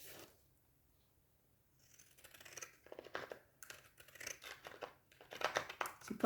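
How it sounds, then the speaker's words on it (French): Pinking shears snip through paper in a series of close, crisp crunching cuts after a short quiet start, with no voices. "Je vais la couper avec vous, avec le ciseau cranteur."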